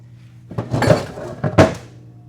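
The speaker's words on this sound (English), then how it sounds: "Pull our anti-clunk spring out." An anti-clunk spring being pulled out of an old automatic transmission, two close metallic clunks and scrapes about a second apart, over a quiet background hum.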